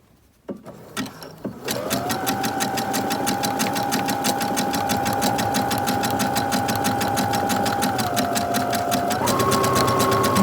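A sewing machine zigzag-stitches a flower appliqué onto a shirt, starting after a couple of short clicks and then running steadily and loudly at close range with a fast, even rhythmic patter, its motor pitch shifting slightly near the end.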